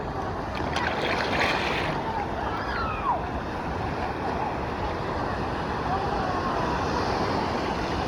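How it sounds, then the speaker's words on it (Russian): Stormy sea surf at Anapa, a constant loud wash of crashing waves roaring close by, mixed with gusty wind buffeting the microphone and faint voices in the background. "Потому что волны просто супер."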